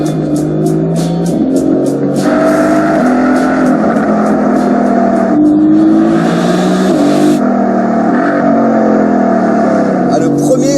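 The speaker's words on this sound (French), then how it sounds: "c'est l'AMG GT-S qui entre en piste avec Anthony Beltoise." A Mercedes-AMG GT S drives onto a race track, its engine rising and falling through loud revving pulls and gear changes, up close and continuous, with someone speaking over the engine noise.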